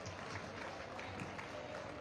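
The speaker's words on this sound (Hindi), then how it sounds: "आप सभी की जोरदार तालियों के साथ।" Audience applause at a public inauguration ceremony, a steady dense wash of clapping from a crowd held at an even level throughout, with no clear pauses.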